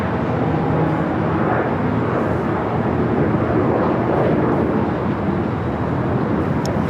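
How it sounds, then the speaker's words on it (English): A LATAM Boeing 787 Dreamliner taking off from the south side at LAX, a steady, loud jet engine roar with a broad rushing rumble held throughout. "We do have a Latam Dreamliner marching down for a south side takeoff"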